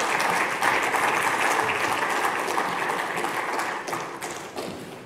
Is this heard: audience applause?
yes